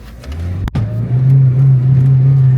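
A car engine being spun over during reassembly, a steady low drone that holds after a brief sharp thump, heard close with no talking.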